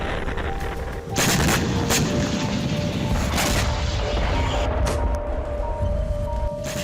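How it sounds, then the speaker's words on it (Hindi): Blasts from a Ukrainian drone strike on a gas pipeline in Khanty-Mansi, Russia: a dense, sustained roar of booming detonations and crackling fire runs throughout, with sharper bursts near the start and middle. "यूक्रेन का एक ड्रोन खांती मैंसी की गैस पाइपलाइन तक पहुंचने में कामयाब हुआ और फिर यह जोरदार धमाका हुआ।"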